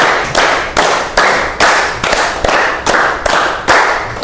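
A class of students clapping together in a regular counted pattern, about ten sharp, loud, evenly spaced claps, each with a short ringing decay, no talking.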